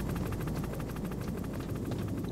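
Helicopter in the game Metal Gear Solid, its rotor thumping in a fast steady rhythm, loud and continuous with no speech over it.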